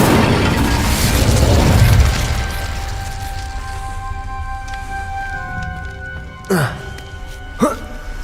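An Incendio fire spell cast in Hogwarts Legacy: a loud roaring whoosh of flame that swells and fades over a couple of seconds, leaving ringing tones, then two short sharp sweeping bursts.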